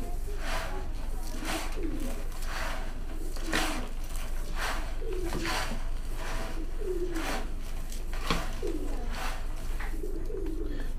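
Racing pigeons being fed grain coo repeatedly in a steady rhythm, close by, over constant background noise with faint human voices.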